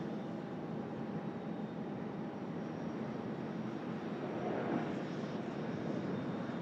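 An Airbus A380 takes off and climbs out at Sydney Airport, a steady, loud broadband jet roar that swells slightly toward the end as it passes near, with no talk over it.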